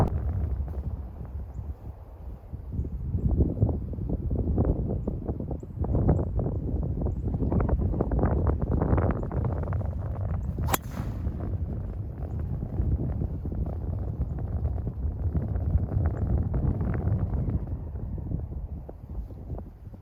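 Wind buffets a microphone on a golf course, an uneven low rumbling roar that swells and eases throughout, with a brief sharp click midway.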